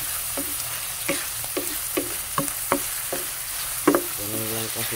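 Mussel adobo with oyster sauce sizzles in a pan as a spoon stirs it, giving repeated close scraping knocks over a steady hiss.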